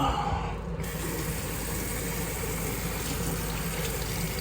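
Steady running water pours without a break, close and moderately loud, as hair is rinsed out under a tap.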